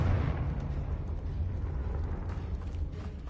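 Confringo spell explosion in the Hogwarts Legacy game, a deep rumbling blast that decays slowly into creaking, crumbling debris, moderately loud and with no talk over it.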